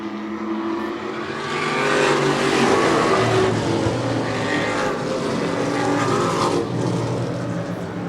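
Star Tour Modified race cars roar around the oval in the closing laps, a loud continuous engine drone with passing swells as the pack goes by.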